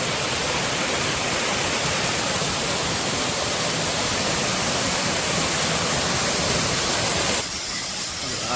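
A waterfall at Clover Hill, Australia roars as a steady, loud broadband rush of falling water, continuous and unbroken, with no voices.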